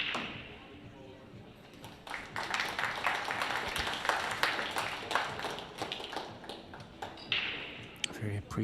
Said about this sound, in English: Appreciative round of applause from the local crowd.